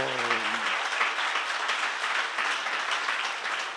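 Loud, sustained applause from a church congregation at a seminar, dense clapping filling the whole stretch after a brief voice at the start.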